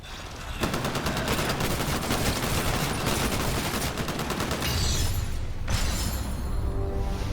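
Rapid automatic gunfire in a Titanfall video game battle, loud sustained bursts of rattling shots with brief pauses and crackling impacts, no talk over it.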